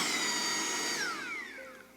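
A Saker 3-in-1 mini portable vacuum running on its high setting, a steady high-pitched motor whine that starts loud, then drops in pitch and fades as it winds down.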